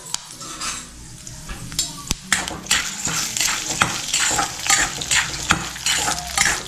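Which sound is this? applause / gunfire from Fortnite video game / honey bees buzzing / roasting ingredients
roasting ingredients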